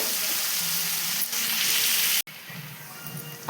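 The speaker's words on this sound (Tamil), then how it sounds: "இப்போது ஆனியன் பொன்னிறமாக ஒரு 5 மினிட்ஸ் வதங்கட்டும்" Onions sauté in a pan for potato masala served with poori, making a steady hiss of frying up close. After a brief cut the sizzle resumes slightly softer, with no speech.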